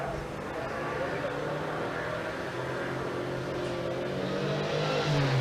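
A 1966 Ford XR Fairmont, a restored original Australian car, running at a sprint meet, its engine rumbling steadily and rising slightly in pitch at the end, with a voice talking over it throughout.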